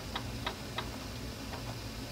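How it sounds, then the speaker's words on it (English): Kitchen timer ticking faintly in a cooking space where poke salad boils, a handful of light, irregular clicks over a low background hum. "going to set my timer right here"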